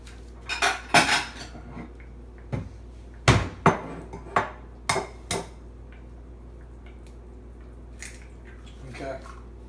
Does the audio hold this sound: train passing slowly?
no